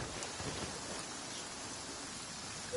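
Steady rain falls in the Genshin Impact video game, a quiet, even hiss of drops with no talking and no clear thunder.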